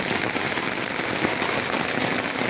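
Steady rain falls on the first day of the Bengali New Year, a dense continuous patter on surfaces, loud and even throughout with no voices.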